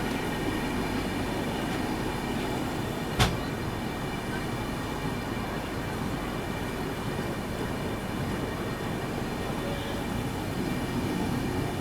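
Etawah–Gwalior MEMU train on an Indian railway line, a steady, loud broadband rumble running throughout, with a single brief sharp tick partway through.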